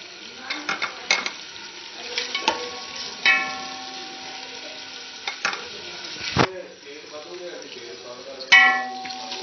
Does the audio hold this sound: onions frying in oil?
yes